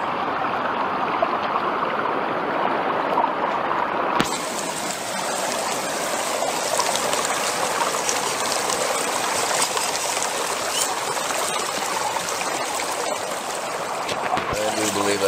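Water rushes steadily through a fluid bed gold trap under fairly decent pressure, a continuous close splashing flow that grows brighter and louder after a few seconds.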